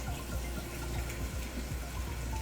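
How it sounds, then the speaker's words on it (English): Steady rushing of tap water pouring into a pot, a constant close splashing hiss with no pauses. "we're going to fill this up with warm water"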